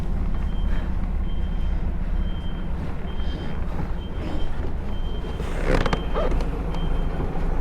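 A heavy goods vehicle reverses with a steady low diesel engine rumble, and its repeated electronic reversing beeps sound close and loud. A brief hiss near the end could be an air brake.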